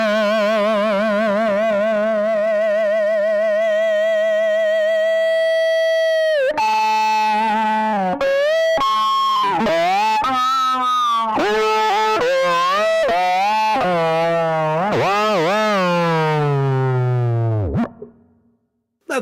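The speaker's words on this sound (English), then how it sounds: "Let's try some distortion on this." Stringed instrument played through a distortion effect, loud and buzzy, starting with a long wavering held note, then a run of bent, sliding and gliding notes, ending in a sharp cutoff.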